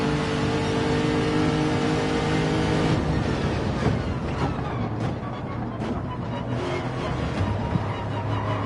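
A Group 2 race car engine in a racing video game drones and revs continuously on the Yamigawa reverse circuit, with throttle changes and gear shifts as the car works through corners.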